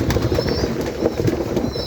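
Spotted doves coo softly close by, with short repeated low calls and faint rustling; a few brief higher chirps come through behind them.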